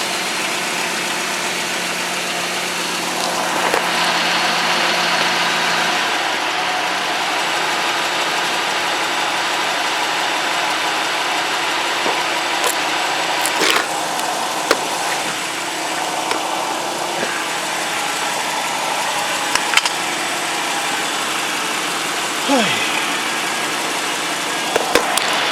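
A 2007 Dodge Magnum engine idles after an oil temperature sensor replacement, a steady close rumble that runs on unchanged for about half a minute, with a few scattered clicks and light handling noises over it.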